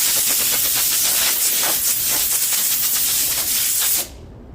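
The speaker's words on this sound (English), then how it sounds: "I'm going to blow it out a little bit, just make sure I don't have any of that dust trapped in the grain." Compressed air blows sanding dust off a scuffed wood surface between finish coats, a loud, steady close hiss lasting about four seconds before cutting off abruptly.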